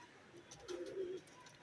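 A single soft pigeon coo, faint and somewhat distant, rising briefly over quiet background noise.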